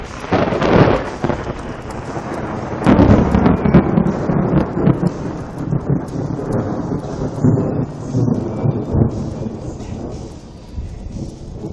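Heavy thunder during a July thunderstorm: loud, booming claps and long rolling rumbles follow one another over a bed of steady rain, with no voices.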